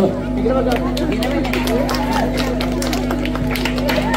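A crowd claps for running-race prize winners at an outdoor Ganeshotsav sports competition, a steady patter of applause running throughout over a constant electrical hum, with crowd chatter and a voice mixed in.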